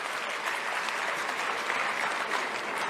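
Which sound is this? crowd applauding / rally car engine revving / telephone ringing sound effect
crowd applauding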